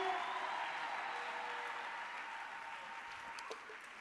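A church congregation applauds in praise, a broad, moderately loud clapping texture that slowly fades over a few seconds; ululation is not clearly distinguishable within it.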